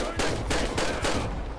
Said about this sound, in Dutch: Oh, zijn schoten gelost!